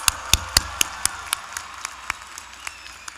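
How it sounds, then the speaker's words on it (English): Sparse, scattered hand claps ring out at irregular intervals at a high school graduation ceremony, a thin spattering of applause over a hushed room rather than a full ovation. "Let's give them another round of applause."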